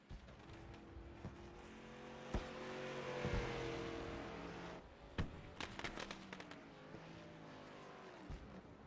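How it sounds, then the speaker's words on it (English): Fireworks in the iRacing video game at Bristol: several sharp pops and crackling bursts, mostly in the second half, over the low hum of race car engines in the background. "Fireworks go off in the background"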